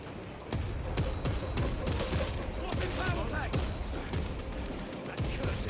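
Gunfire in the video game Space Marine 2, scattered sharp shots and bursts cutting through a dense battle din, with a voice talking under the noise.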